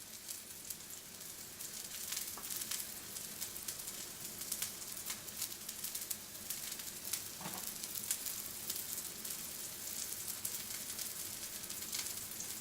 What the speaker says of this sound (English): We're going to keep the tuna in here, and once again, this is going to take more patience